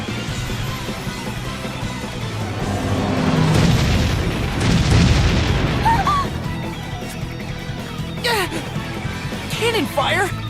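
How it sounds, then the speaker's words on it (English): Deep booming cannon fire rumbles and crashes in the middle of a Bravely Default game scene, layered with music and character voices speaking throughout. "Cannon fire?"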